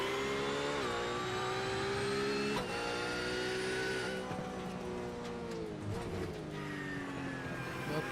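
GT3 Cup race car engine in a sim racing game, a steady loud drone whose pitch climbs and drops in quick, early gear changes, alone without talk.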